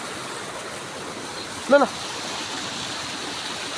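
River flowing outdoors, a steady faint broadband rush of water throughout, interrupted briefly by a short spoken word.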